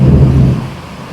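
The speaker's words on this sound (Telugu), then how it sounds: "ఉరుములు మెరుపులు ఫుల్లుగా వర్షం పడుతుంది ఉరుముతుంది" A loud, low rumble of thunder rolling and fading over about a second, with a rushing wash of heavy rain beneath it, rain striking metal sheets over stairs.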